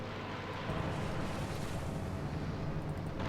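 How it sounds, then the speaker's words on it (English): A Katyusha rocket barrage in the video game Company of Heroes 2 fills the whole span with a dense, continuous roar of launches and explosions, loud and unbroken. "Katyusha barrage on the way."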